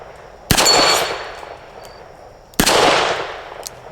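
Two loud, close gunshots from a Smith & Wesson Model 65 .357 Magnum revolver with a 3-inch barrel, fired outdoors about two seconds apart, each a sharp crack followed by a long ringing decay with no voices.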